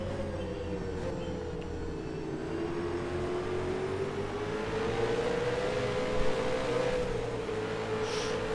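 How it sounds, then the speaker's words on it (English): V8 race car engine in a sim racing league race at Barbagallo at night, a steady droning engine note holding near-constant revs that rise gradually, loud and close with no voices, then a brief bump near the end. "You could hear the engine revs just drop as Gary almost lost it."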